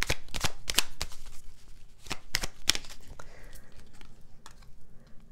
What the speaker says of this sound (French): je vais juste tirer la dernière carte